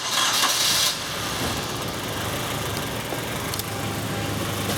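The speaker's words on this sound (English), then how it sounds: "Oh, now it doesn't even want to idle." A car engine idles roughly with a vacuum leak, a steady low running hum that holds at moderate level throughout after a brief brighter burst at the start, with no voices.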